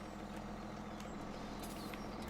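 A John Deere 7030 tractor in Farming Simulator 17 runs with a steady low engine rumble, continuous and fairly quiet throughout with no talk over it.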